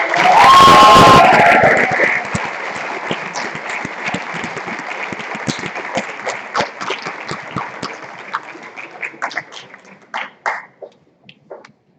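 Loud audience applause at a Samueli Academy senior awards ceremony for scholarship recipients, a dense burst of clapping that peaks at the start, then thins into scattered individual claps that fade out near the end.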